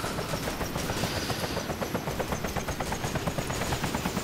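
Helicopter in the video game City Life RPG 2, its rotor thumping in a steady rapid rhythm, close and loud, heard alone.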